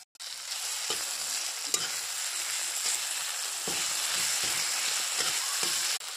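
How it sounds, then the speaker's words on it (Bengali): Spice paste of crushed lao (bottle gourd) peel frying in hot oil with onion, tomato and salt, a steady close sizzle with scattered spatter crackles and a few stirring scrapes, no talk. "বাটাটা দিয়ে ভেজে নেব, ভালো করে ভেজে নেব"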